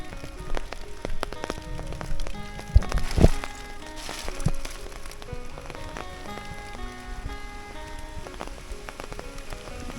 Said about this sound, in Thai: ถ้าว่าฝนตกแบบนี้มันน่าจะเย็นอีหยังเลยนะ